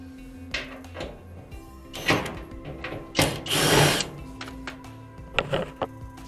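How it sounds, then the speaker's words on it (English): A power drill removing quarter-inch screws from a Maytag Centennial dryer whirs in several short bursts, with one longer run in the middle, between clicks and handling noises close by. "That way I can get my drill at the right angle to remove"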